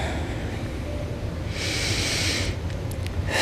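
During a strength yoga session, a practitioner takes a single sharp inhale through the nose, a brief hissing breath lasting about a second over a steady background rumble.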